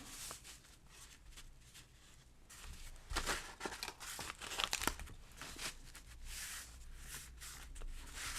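Scrap paper being torn and crumpled by hand during a journaling craft session, a steady run of crinkling and rustling with sharper ripping bursts partway through, close and fairly quiet, with no talking.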